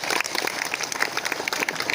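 An audience at a felicitation ceremony held by the Maharashtra Sikkalgar community society claps steadily, with dense overlapping handclaps at moderate loudness throughout and no speech over them.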